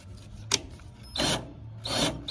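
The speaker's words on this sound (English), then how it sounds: "And then we're just going to go ahead and screw it in." Scraping and rasping bursts of a screwdriver turning a screw to fasten an electric cord terminal onto a GE dryer, close up, in three or four short separated strokes with no talk.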